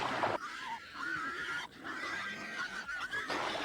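A herd of pigs grunts and squeals continuously, several animals overlapping in a dense, close chorus with brief dips in loudness.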